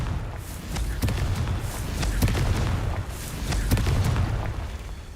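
Repeated booming blasts of the Confringo explosion spell in Hogwarts Legacy, a series of sharp bursts with rumbling low tails spread across several seconds, loud and close with no talk.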